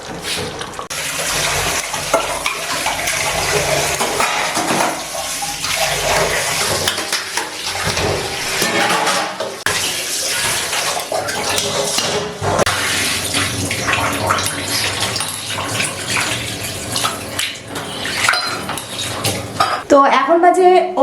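Dishes are washed in a home kitchen under running tap water, with a continuous hiss of water and frequent clinks of plates and utensils being scrubbed and set down; a voice speaks now and then.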